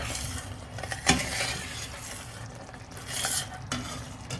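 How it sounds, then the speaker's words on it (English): Blackberry jam is stirred in a pot, a spoon scraping and knocking against the metal in repeated strokes over a steady bubbling hiss, one louder clank early on, close and with no voices. "I'm gonna keep stirring."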